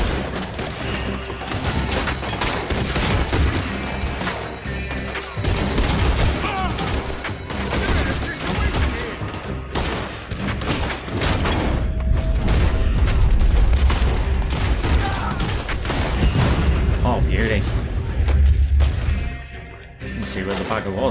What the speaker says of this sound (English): Shoot that oil wagon!